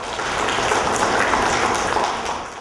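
Applause from those present in a district administration board meeting hall as an official departs, a dense, steady wash of clapping that fills the room at an even loudness before tapering off at the end.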